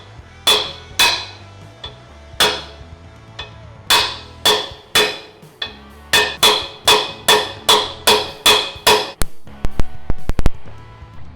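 A hammer strikes steel repeatedly to break bolts loose while fitting an off-road steel bumper on a Lexus GX470, about fifteen sharp metallic blows in uneven bursts, loud and close, with no talking.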